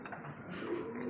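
A Teddy pigeon gives a brief, soft, low coo that sounds faint and close.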